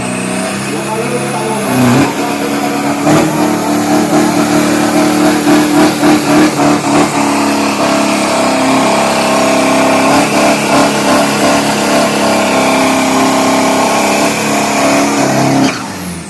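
A 1500 kg turbocharged 3.0 street truck on radial tyres revs hard at a drag race, a loud sustained engine roar with shifting pitch and crackling pulses, while an announcer talks over it throughout.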